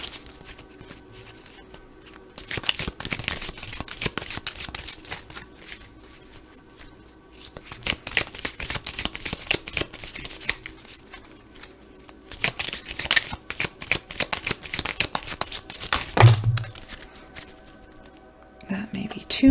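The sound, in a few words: tarot cards being shuffled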